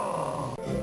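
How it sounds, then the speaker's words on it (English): Diesel the engine from Thomas & Friends growling, a low rumbling snarl with a thick, sustained tone that breaks briefly and then resumes, loud and close with no talk over it. "Diesel's growling used to scare me as a kid"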